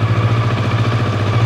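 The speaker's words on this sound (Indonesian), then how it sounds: "Coba kita hidupin mesinnya." Kawasaki Versys 650 motorcycle engine running steadily after being started, a close, even mid-pitched idle with a fast, regular pulse and no talk over it.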